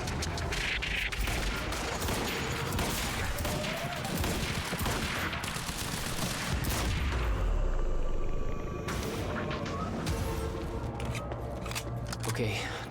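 Gunfire and combat effects in the video game Quantum Break, dense and continuous, with someone talking over the shooting throughout.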